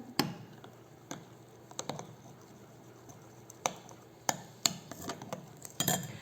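A spoon stirs a chocolate mixture into dissolved gelatin for a no-bake chocolate soufflé, giving light, irregular clinks and taps against the bowl, quiet and close, with no talking.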